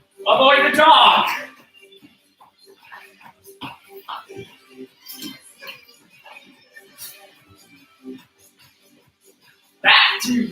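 A dog lets out two loud, close bursts of barking, one at the start and one at the end, with scattered quieter sounds and a voice in between.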